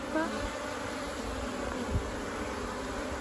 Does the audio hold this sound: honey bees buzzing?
yes